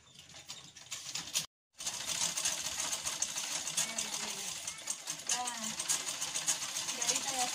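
A sewing machine stitching a garment runs in a fast steady mechanical rattle, stopping briefly near the start and then continuing loud and close.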